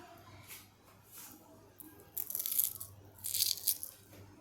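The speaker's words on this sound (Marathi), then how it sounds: "हे शेव किती कुरकुरीत लागते ते मी तुम्हाला सांगते" Freshly fried crispy sev on a sweet potato fasting chaat crunches in short, close bursts. The crunching builds in two louder clusters after a quieter start, with no talk.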